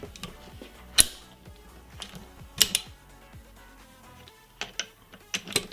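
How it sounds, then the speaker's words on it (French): Torque wrench tightening the ignition nut on a KTM or Beta motorbike to 60 Nm, sparse metallic clicks and clacks of the tool and parts, close and quiet with a few sharper taps. "On va encore venir serrer à la clé dynamométrique, donc 60 Nm ou 6 mètres kg de couple."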